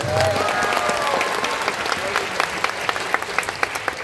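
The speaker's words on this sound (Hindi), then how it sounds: "तो एक बार रीता जी के लिए बहुत जोरदार तालियां बजाइए" A dense, steady wash of audience applause fills a hall at a Hindi-language talk. A voice is briefly heard at the start, and a few sharper individual claps stand out near the end.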